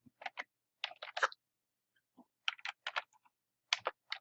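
An email address is typed on a computer keyboard: quiet, close key clicks come in short uneven bursts with brief pauses between them.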